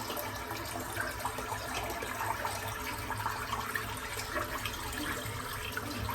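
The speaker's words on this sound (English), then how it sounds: "Just going to empty this water out." Shaving water being emptied out of a sink or bowl after a wet shave, a steady close splashing and draining rush that runs evenly throughout with no talking.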